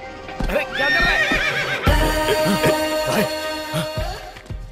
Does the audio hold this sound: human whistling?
no